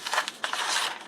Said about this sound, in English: you can feed the paper into the scissors with your other hand